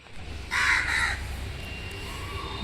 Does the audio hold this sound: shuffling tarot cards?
no